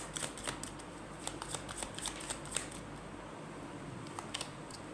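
Tarot cards are drawn and slid from a deck during a reading, giving a string of soft, crisp papery flicks and taps at close range in a quiet room, with no talking.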